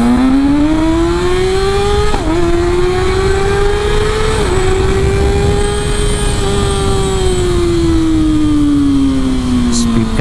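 A Kawasaki Ninja ZX6R motorcycle on a road test ride holds a loud, steady high-pitched engine whine throughout, with two brief dips as gears shift and the pitch rising then slowly falling, heard from up close.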